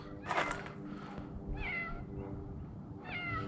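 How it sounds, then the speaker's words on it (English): A cat meows three times, softly and a bit distant, in a quiet garage between car repair work. "I heard that cat meowing"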